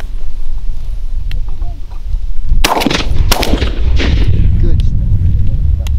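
Shotgun blasts during a mourning dove hunt: two loud, sharp reports close together, with a faint pop before them and people talking over outdoor noise.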